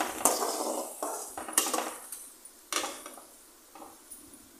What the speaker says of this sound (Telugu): మధ్య మధ్యలో మిక్స్ చేస్తూ ఆనియన్స్ ఫ్రై చేసేసుకోవాలండి.